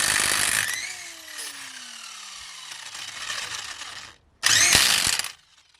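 A Parkside impact wrench works tight lug nuts on a BMW, a loud close burst of rattling hammering that drops to a lower whir, cuts out, then one more short loud burst.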